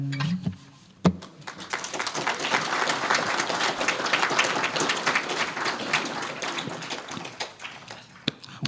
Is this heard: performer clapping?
yes